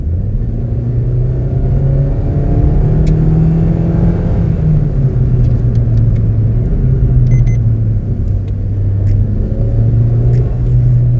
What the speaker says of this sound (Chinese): 你来试驾这辆车子，你就会知道这个 Booster Jet 引擎的魅力了